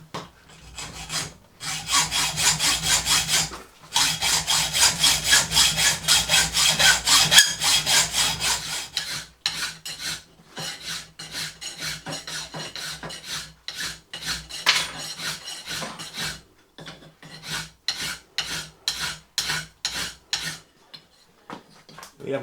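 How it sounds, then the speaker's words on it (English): A hand file rasps across an aluminium workpiece in steady back-and-forth strokes, loud and close, with brief pauses between bursts before the strokes grow shorter and lighter. "a little bit more blending work with the file and it'll be good to go"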